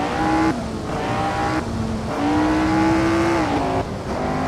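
A 1967-era F1 race car in Assetto Corsa, at the Teretonga Tasman Series round, screams close by, its engine pitch climbing through several gear changes with brief dips between shifts, loud and steady with no talk.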